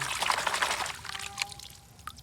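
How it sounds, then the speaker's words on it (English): Water pours and splashes briefly, close and fairly soft, then trickles off into a few faint drips. "So now I put some water."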